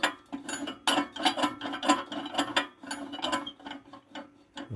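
The ash slider mechanism of a lamella grate clanks as it moves, giving a close series of sharp metallic clicks and ratcheting knocks in an uneven rhythm, with no voices.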